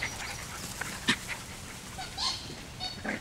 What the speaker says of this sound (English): to get the dogs to come in.